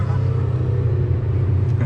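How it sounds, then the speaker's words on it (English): A Lamborghini Huracan Performante gives a deep, steady engine rumble heard from inside a car with its back window open, loud and close for about two seconds, with a voice speaking over it. "Oh, nice thunder because we've got the back window open"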